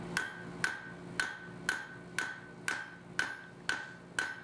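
A hammer strikes hot iron to forge-weld a twisted 18th-century style trivet: nine evenly spaced, ringing blows about half a second apart, close and alone.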